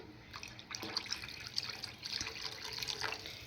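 Water pours into pepper rasam in a pot, a light trickling and splashing that runs in short uneven bursts, fairly close and soft.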